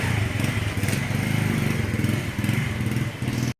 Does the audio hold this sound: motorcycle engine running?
yes